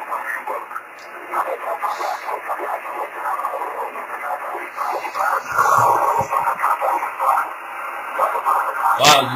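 Garbled amateur radio transmission on 10 GHz via rainscatter: a band-limited, hissy voice signal warbling and smeared beyond understanding, steady and fairly loud through static, ending with a short burst.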